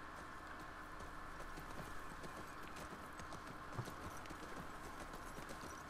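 Horses in The Last of Us Part II walk along a road, their hooves clip-clopping in a steady, continuous rhythm under a dense game soundscape with no talk.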